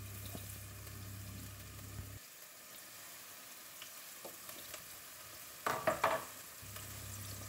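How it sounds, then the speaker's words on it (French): Meat browns in a pot for Algerian shorba frik, giving a faint, steady sizzle with a low hum. A few louder clatters come close together near the end, and no one speaks. "Je laisse revenir comme ça pendant 5 minutes de chaque côté jusqu'à ce que la viande devienne dorée"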